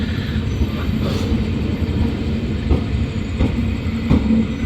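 Amrit Bharat Express 15674 Kamakhya–Charlapalli train hauled by WAP5 locomotives departing, a steady rumble of rolling wagons with faint wheel squeal and periodic clicking from the rails, loud and continuous.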